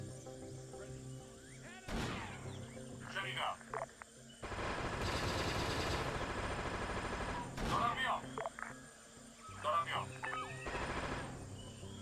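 Suppressive gunfire in the Arma 3 video game. Sharp single shots ring out, then a sustained burst of automatic fire lasts a few seconds, followed by more scattered shots. Faint voice chatter and radio-like sounds sit between the bursts.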